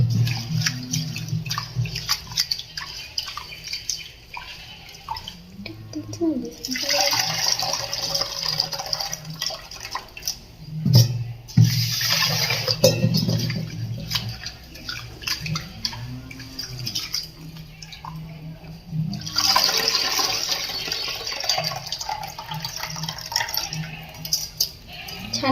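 Water splashes and runs in a home kitchen as food is rinsed two or three times, coming in several separate bursts of rinsing with quieter stretches of handling between them.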